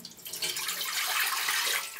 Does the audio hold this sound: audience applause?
no